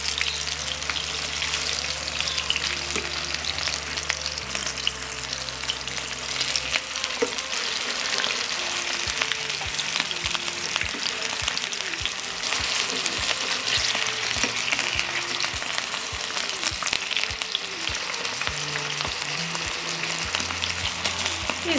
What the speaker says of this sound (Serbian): Pržit ću ih 2 do 3 minuta sa jedne i sa druge strane, otprilike da budu 2/3 gotove.